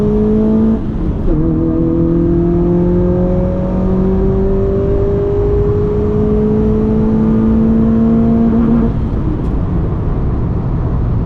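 A Honda Fit accelerating hard on a test drive, a loud close engine note rising through the revs, dropping at a gear change, then climbing again before easing off.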